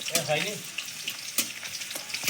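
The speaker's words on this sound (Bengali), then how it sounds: "ফোড়নটা একটু নেড়ে ছেড়ে নেবো।" A tempering of mustard seeds, dried chilli and crushed garlic stirred in hot mustard oil. It gives a short, fairly faint burst of crackling sizzle with a few sharp scraping ticks.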